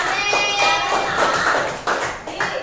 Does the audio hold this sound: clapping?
yes